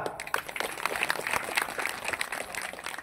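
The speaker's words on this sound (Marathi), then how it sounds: "जोरात टाळ्या वाजवा जरा" Audience at a village yatra festival kirtan clapping loudly together, a dense continuous patter of many hands through the whole stretch.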